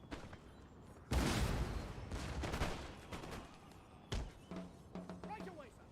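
Line infantry musket volley in a Total War: Empire battle, a sudden loud crackling burst of massed fire that rolls on and fades, followed by scattered sharper shots, with background battle noise.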